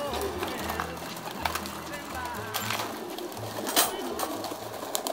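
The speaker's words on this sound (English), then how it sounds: "Birds are starting to come around," Young pigeons in a backyard loft coo in low, repeated murmurs, with a steady wash of outdoor background noise throughout.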